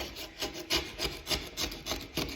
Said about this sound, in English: I have to basically scrape it because it's not, if he sprayed it heavy enough, it would have all peeled off